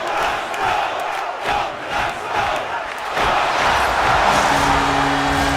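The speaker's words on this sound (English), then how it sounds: "Hype moments are literally just different crowd noises which sound like 5 guys in a studio" Hockey arena crowd noise from the NHL 24 video game: a dense, steady roar of many voices that swells slightly louder and brighter toward the end.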